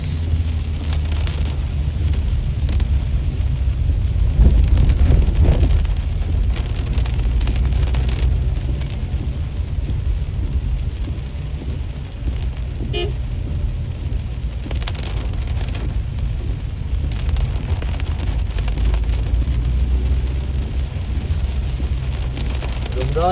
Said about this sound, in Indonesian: Hujan makin lebat